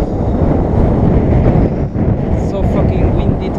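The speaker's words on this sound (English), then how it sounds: "It's so freaking windy." Strong wind blows hard across the microphone outdoors, a loud, steady rumbling buffet with a brief lull midway.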